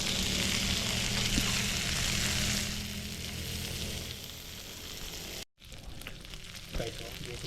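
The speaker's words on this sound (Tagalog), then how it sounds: "Ito ang ating sisig na sizzling plate." Filipino pork sisig sizzles loudly on a hot cast-iron sizzling plate, a steady close hiss and crackle that softens partway through, then cuts out briefly before resuming with scattered pops.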